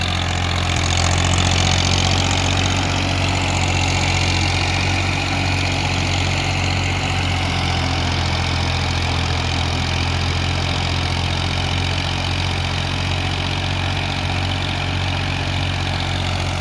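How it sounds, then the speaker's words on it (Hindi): A Massey Ferguson TAFE 30 DI tractor engine runs loud and close, a steady low diesel drone with a constant mechanical rumble and no talk. "दूसरे के लो में ट्रैक्टर की चाल चेक करियो एक बार"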